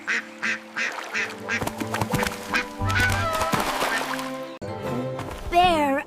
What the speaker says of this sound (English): Duck swimming!